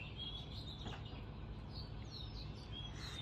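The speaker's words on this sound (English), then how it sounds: "Let's just listen to those birds for a minute" Early morning birdsong outdoors, several small birds chirping and whistling in short high bursts at moderate distance over a quiet, faint background.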